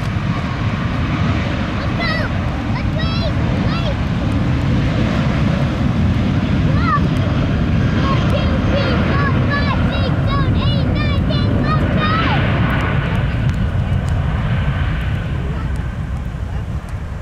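A Southwest jet takes off in the rain at Minneapolis–St Paul airport, its engines a loud, steady roar that fills the whole stretch, with control-tower radio voices chattering over the top.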